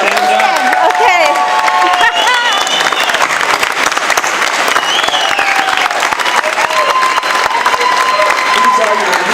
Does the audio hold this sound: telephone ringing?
no